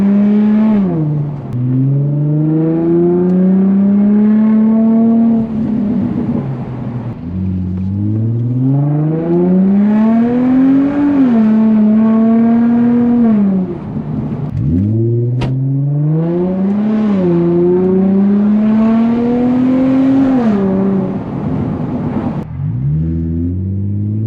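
An Infiniti G35 in manual shift mode pulls hard through the gears, loud and close: the engine note climbs in pitch, drops at each shift and climbs again several times, with a steady rumbling drone underneath.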